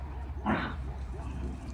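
Dogs watching a chain link fence installation give a brief yip and whimper near the middle, over steady outdoor background noise with a voice present.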